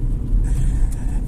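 A car engine stumbles and cuts out during a missed gear shift in a driving lesson, producing a brief, uneven low rumble with no voices.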